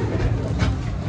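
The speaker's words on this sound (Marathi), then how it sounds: "आम्ही धावत्या रेल्वेत बसलोय" Inside a moving passenger train, a loud, steady low rumble of wheels and carriage with a brief rattling burst midway.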